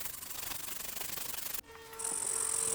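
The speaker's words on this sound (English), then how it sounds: "I switched over to sandpaper and slowly started sanding away at it" Steady, close-up rasping of sandpaper scrubbing wood, a rapid back-and-forth rhythm that cuts out briefly and resumes with a thin high whine behind it.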